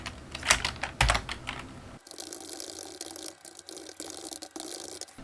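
Computer keyboard typing while working in a Hancom Office document, quick clustered keystrokes up close, followed by a softer stretch of scattered key taps and light clicks.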